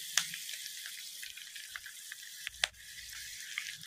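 Cumin seeds, five to seven curry leaves and two chopped green chilies sizzle in hot oil as a tempering for instant rava dhokla, a steady soft hiss broken by occasional sharp crackles and pops, close by with no talk.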